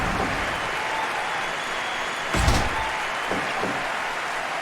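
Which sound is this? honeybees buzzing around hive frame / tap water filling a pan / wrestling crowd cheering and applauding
wrestling crowd cheering and applauding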